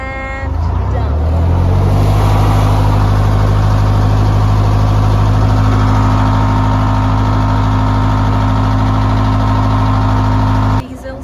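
Diesel engine running loud and close on a boat, a steady low drone with a constant hum that cuts off near the end.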